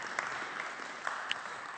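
Applause from a conference audience after a speaker's remark about savings, a steady wash of clapping through the whole stretch with a few sharper claps standing out, heard alone with no talk.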